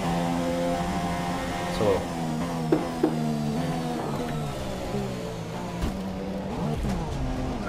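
An F1 car in the F1 2017 racing game held at full throttle, its high, strained engine note climbing through gear shifts with a few sharp clicks, while someone speaks briefly over it.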